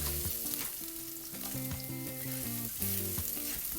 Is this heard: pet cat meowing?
no